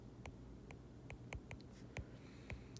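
Marker or chalk strokes on a board during a maths lesson, a series of short scratchy taps and squeaks in an irregular rhythm, close and fairly quiet over a low steady hum.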